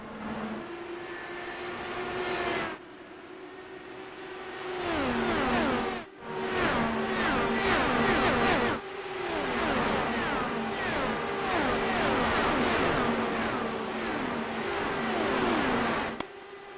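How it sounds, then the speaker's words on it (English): IndyCar race cars in the iRacing video game pull away from a restart at Texas, a steady stream of loud engine whines rising and falling in pitch as cars pass in quick succession, with brief dips between waves. "a great shot there of all the cars getting through this restart"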